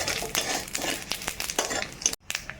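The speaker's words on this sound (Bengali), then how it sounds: "তো রাঁধুনি আর সরিষা এখানে ভাজা হয়ে গেল" Mustard seeds and radhuni spice frying in hot oil for a Bengali eggplant and olive dish, a steady crackling sizzle with scattered pops and stirring scrapes, close and fairly loud, no voices.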